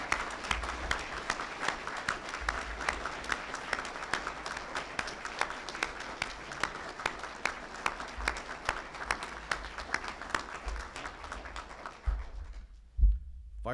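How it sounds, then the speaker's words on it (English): Applause from an audience at a fire recruit class graduation ceremony, many hands clapping steadily and evenly before stopping abruptly near the end, followed by a single thump. "Let's give our graduates a well-deserved round of applause."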